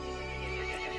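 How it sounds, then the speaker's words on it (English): A horse in the Resident Evil Village video game lets out a single loud, close whinny with a strained, wavering pitch that fills the brief moment alone. "The horse grew angry and summoned the other monsters."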